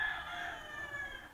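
A rooster, a gamefowl brood stag at a game farm, crows in one sustained, fairly loud call that holds steady for over a second with no talk over it.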